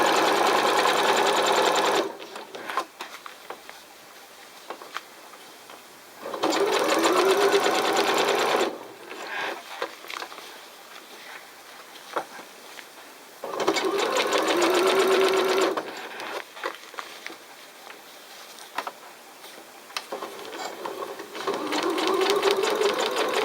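Sewing machine stitching fabric in short bursts, four loud close runs of rapid mechanical whirring separated by quieter pauses filled with small handling clicks and rustles.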